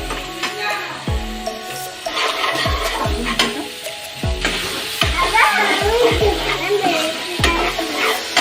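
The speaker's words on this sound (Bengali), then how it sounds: "নাড়তে থাকবো" Chopped tomato fries in a pan for a fish-head moong dal while a spoon scrapes and knocks against the metal in regular strokes over a steady sizzle. Faint voices and background clatter are heard under the cooking.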